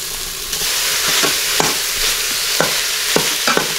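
Meat sautéing in an Instant Pot for miso ramen, a steady close sizzle with several soft scraping stirs of a utensil against the pot.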